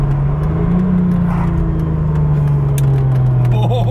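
Steady engine drone from a Volvo sleeper car fitted with a 2JZ engine cruising on back roads, a constant close hum with a slight rise in pitch, no talking.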